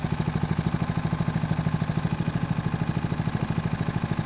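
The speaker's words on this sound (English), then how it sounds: "This is idle speed." A homemade outboard engine idles in gear on the water while the boat trolls slowly, giving a steady, rapid low-pitched putter with an even pulsing beat, close and continuous with no talk over it.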